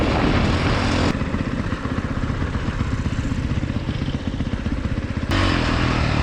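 A 2022 Honda CRF450R dirt bike runs close and loud, its single-cylinder engine holding a steady, gritty drone with a rapid pulsing rhythm, briefly steadier and brighter at the start and end.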